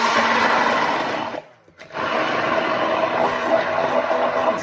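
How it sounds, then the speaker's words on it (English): A stick blender whirs loudly through vegan nut-free nacho cheese sauce, a steady high-pitched motor drone that cuts out briefly for a moment, then starts again and runs on. "The handy dandy stick blender."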